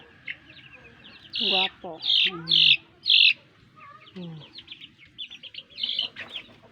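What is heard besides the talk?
Chinese and native crossbreed chickens clucking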